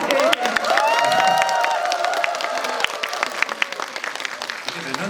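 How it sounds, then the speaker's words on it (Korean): Applause and light cheering from a cinema audience at a Megabox Coex film talk for New Normal, a crowd clapping under a sustained vocal or musical tone, tapering into scattered claps near the end. "답변을 하실 때마다 이렇게 또 박수를 쳐주시는 게 약간 콘서트장이고"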